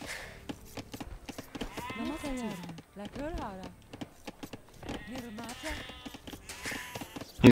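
Age of Empires 2 sheep give several clear, wavering bleats in a row, then more after a short pause, with game sounds and a voice talking over parts of it.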